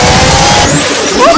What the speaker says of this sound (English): a twin turbocharged magazine uses gunpowder fumes to spool up the turbos